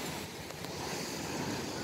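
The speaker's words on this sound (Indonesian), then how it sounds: "hari ini gue sedang berada di Pantai Pasir Putih 121" Waves break on the white sand beach of Pasir Putih near Anyer, a continuous broad wash of surf mixed with wind buffeting the microphone, steady and moderately loud with no talk.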